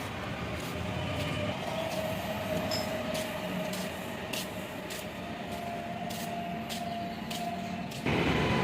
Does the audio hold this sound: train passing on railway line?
yes